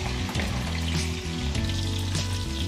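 Potatoes fry in a pan over a medium-low flame with a steady, soft sizzle that runs without a break, partly under a tonal background hum. There is no speech.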